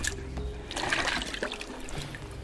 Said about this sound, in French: Je vais le rincer dans l'eau.